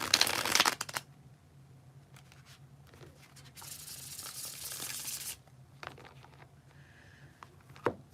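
A deck of tarot cards is shuffled close up during a Libra reading, crisp riffling bursts at the start and again mid-clip, separated by quieter handling, with no talk.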